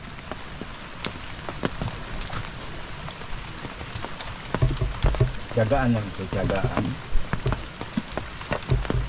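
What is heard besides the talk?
rain falling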